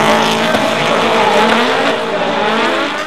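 Nissan S13 drift cars running in tandem at a D1NZ Pro-Am final at Mt Smart, engines roaring loudly with tires squealing and skidding, a sustained close pass that eases slightly toward the end.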